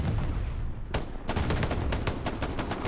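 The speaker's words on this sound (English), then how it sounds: "And artillery takes them all" Artillery fire in Hell Let Loose during a competitive Stalingrad match: a dense rattle of rapid sharp bangs and blasts, with one heavy impact followed by a fast string of shots.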